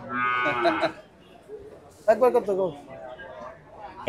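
Cattle at the Gabtoli cattle market low in a couple of drawn-out moos, one near the start and a louder one midway, with people talking around them in a busy livestock trading crowd.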